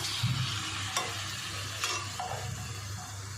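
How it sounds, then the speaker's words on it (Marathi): Chickpeas, kabuli chana and peas tipped into a hot pan for Marathi street-style ragda, giving a steady close sizzle and frying hiss with a few short stirring scrapes, no talk. "आणि आता चणे आणि काबुली चणे आणि वाटणे टाकायचे"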